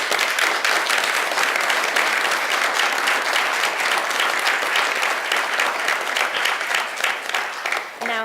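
An audience at an Illinois Board of Higher Education meeting gives sustained applause honoring a retiring member, dense, even clapping from many hands that holds steady, then thins and fades near the end.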